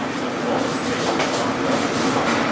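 A London Underground Metropolitan Line train runs between stations, with a steady loud roar of wheels and motor heard from inside the carriage and a faint rhythmic rattle under the broad rushing noise.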